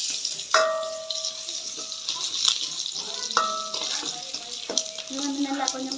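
Curry frying in a pan with a steady sizzle, punctuated by sharp ringing clanks of a metal spoon stirring against the pot, close and loud with brief faint voices in the background.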